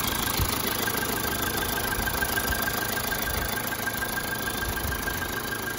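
A Toyota RAV4 with the 2.0 D-4D diesel engine idles steadily and smoothly, a close, continuous low rumble with a faint mechanical ticking that holds at an even level throughout, with no talk.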